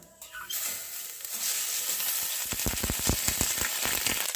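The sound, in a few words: panch phoron spices and ginger sizzling in oil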